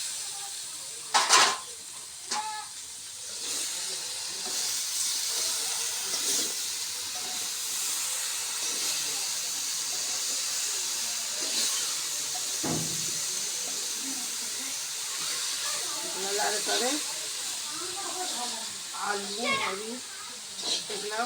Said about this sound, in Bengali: এখন লাউ পাতাটা ঢালে দিলাম